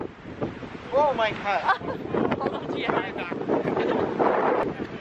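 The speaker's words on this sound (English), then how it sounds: "Oh my god, the wind." Strong gusty wind batters the microphone at Pali Lookout on Oahu, a loud roaring rumble under excited speech.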